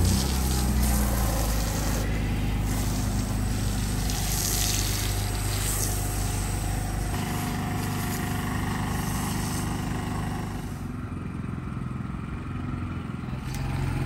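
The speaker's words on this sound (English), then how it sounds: "we're gonna get ready to foam the car with our foam cannon" A foam cannon sprays foam onto a car during mobile detailing, a loud continuous hiss running alongside the drone of a pressure washer pump, with the pitch and level shifting as the spray moves.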